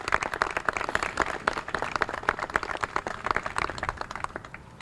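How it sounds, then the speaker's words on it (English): Steady round of applause and clapping from an audience honoring police officers at a 2019 recognition awards ceremony, moderately distant and continuous with no talking. "All right, one more round of applause for our officer honorees today for the awards."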